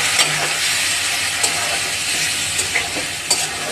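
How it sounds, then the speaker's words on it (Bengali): Fish pieces fry in a hot pan with a steady, loud sizzle and hiss, broken by a few light scraping stirs, with no talk over it. "ভাজা ভাজা করছি।"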